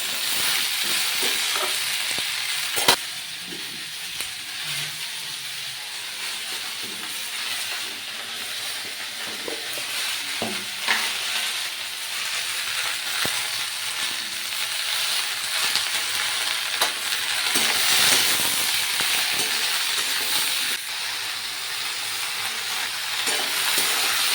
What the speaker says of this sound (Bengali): এর মধ্যে আমি দেখো বরবটি আর কুমড়োগুলো দিয়ে দিলাম